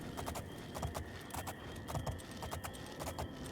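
Horse hooves clip-clopping at a stable in the video game Oblivion, a quiet, steady walking rhythm of hoof strikes on hard ground with faint background sounds.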